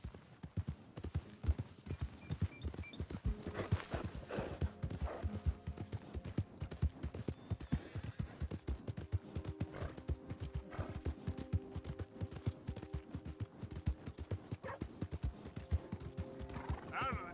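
A horse gallops in Red Dead Redemption 2, with hooves pounding in a fast, continuous rhythm and a neigh rising early on, all under game music and occasional character shouts.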